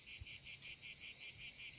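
Cicadas buzzing steadily on a hot day, a dense high, pulsing drone with a regular throb, fairly faint and continuous with no voices.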